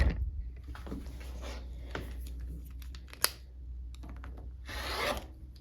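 Quilt border fabric strips are lined up and cut, with soft rustling and scraping of cloth close by, a single sharp tick, and a rasping cutting stroke near the end.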